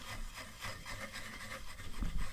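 Ash and plenty of vinegar are scrubbed across a badly burnt surface inside a winter van, giving a brief, close, rhythmic rasping rub with repeated strokes.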